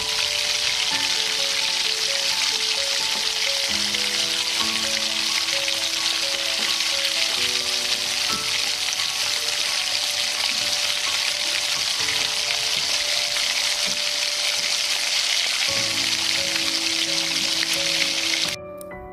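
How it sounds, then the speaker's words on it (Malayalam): Prawns deep frying in hot oil until crispy and golden give a constant, dense crackling sizzle, close and even for the whole stretch, under soft background music that fades near the end. "അങ്ങനെ നല്ല ഗോൾഡൻ കളറിൽ പ്രോൺസ് എല്ലാം ഫ്രൈ ചെയ്ത് വെച്ചിട്ടുണ്ട്"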